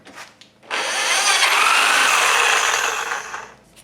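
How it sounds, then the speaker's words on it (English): A Sawzall cuts through an exhaust pipe clamped in a vise, a loud, steady buzzing rasp that starts abruptly and runs for about three seconds before stopping, with no talking. "I'm just putting it in a vise and using a Sawzall"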